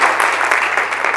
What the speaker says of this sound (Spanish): Porque le damos un fuerte aplauso al Señor.